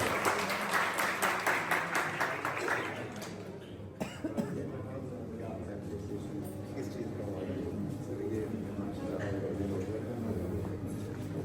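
An audience claps for a young award recipient at a ceremony, with quick rhythmic applause at first that fades into murmuring and a few coughs from the crowd.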